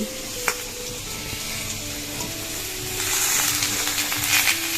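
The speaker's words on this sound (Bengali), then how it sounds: "গাজর আর আলু কিন্তু ভাজা ভাজা হয়ে গেছে এবার দিয়ে দিলাম পেঁয়াজের কলি" Carrots, potatoes and onion greens fry in a pan, giving a steady sizzle with some stirring scrapes, growing slightly louder toward the end, close and without talk.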